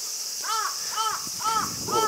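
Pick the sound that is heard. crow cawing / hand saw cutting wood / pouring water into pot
crow cawing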